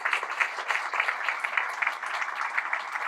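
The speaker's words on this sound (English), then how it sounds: "So I think we should give us all of ourselves a round of applause" Audience applause at a county economic development annual meeting, a steady patter of many hands clapping at moderate level with no speech over it.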